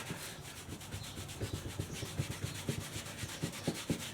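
Penetrating fluid is rubbed by hand onto a part of a Yamaha Virago 250 motorcycle being rebuilt, giving a close, rhythmic series of dry rubbing and scrubbing strokes that quicken toward the end, with no talking.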